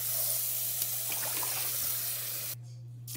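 Tap water runs in a steady broadband hiss while rice is washed in a kitchen sink, then cuts off abruptly near the end, leaving a low background hum.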